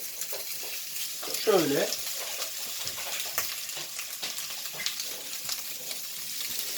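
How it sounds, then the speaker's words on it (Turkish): Köfte meatballs sizzle as they are laid one by one into a hot unoiled pan over medium heat, a steady close frying hiss with soft placing clicks, while someone briefly speaks. "Şimdi köftelerimi dizmeye başlıyorum."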